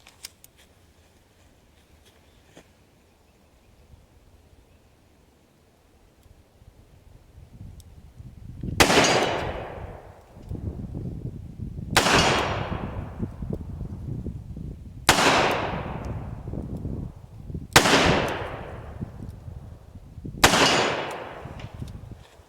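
A S&W 342PD revolver fires at a steel plate 35 yards away, giving five sharp, loud reports spaced about three seconds apart after a quiet opening.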